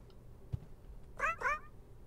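A black cat in the horror game Nightmare of Decay gives two short meows in quick succession, clear but moderately quiet over a low background hum, after a single soft thud.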